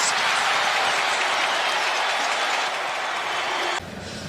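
A football stadium crowd roars after a Hawkeyes touchdown in an SEC versus Big Ten game, a loud, dense, sustained wash of cheering that drops off abruptly near the end.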